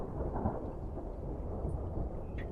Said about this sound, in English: Thunder rumbles outside.